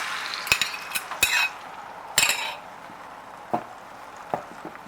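Whisked eggs are tipped into a hot pan for egg fried rice and cooked like an omelette, with sharp scrapes and clatters of a utensil over a soft background sizzle, a few isolated knocks following.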